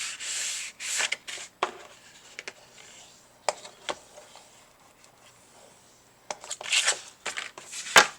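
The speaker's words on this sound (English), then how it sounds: "let's fold on those score lines" Scored cardstock paper is folded along its score lines, giving soft rubbing and crinkling bursts with a few sharp creasing snaps near the start and end, close and quiet, with no voices.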